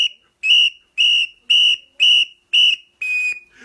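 Seven sharp, shrill whistle blasts sound in an even sequence, each about half a second long with short gaps, loud and close, with no voices between them.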